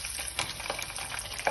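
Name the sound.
oven chips frying in hot oil on the stove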